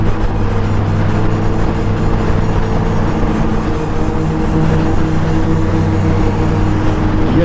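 A motorcycle with aftermarket exhaust pipes passing on a group ride of Can-Am Spyders and Rykers, a loud continuous engine drone and exhaust rumble heard close, over steady wind and road noise.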